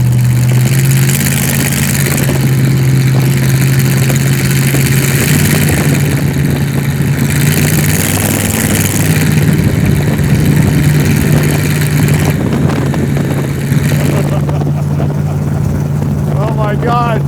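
A WWII-aviation-inspired Willys jeep hot rod runs loud and close with a steady, throaty engine drone whose pitch shifts as it drives, and a person talks over it.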